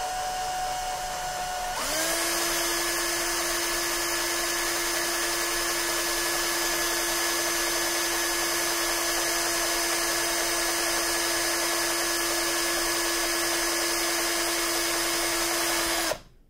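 A high-pitched power drill spins up and whines steadily at constant speed for a long stretch, then cuts off, drilling out a broken diamond-painting multi-placer stub.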